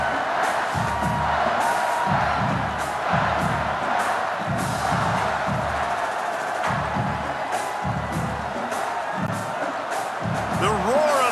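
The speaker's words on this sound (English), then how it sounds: "The roar of the crowd trying to fuel this defense to keep them pinned in their own end." A football stadium crowd at a college game between USC and Nebraska roars steadily and loudly throughout, with rhythmic thumping underneath and a voice talking over the noise.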